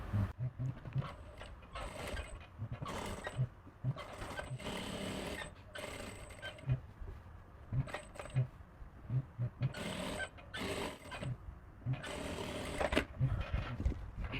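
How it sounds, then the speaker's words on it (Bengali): A sewing machine stitches along a fabric neckline in repeated short bursts of rapid mechanical whirring, separated by brief pauses and faint handling sounds, close by and fairly quiet. "এরপরের মুখে মুখে একটা চাপ সেলাই দিয়ে নেবো"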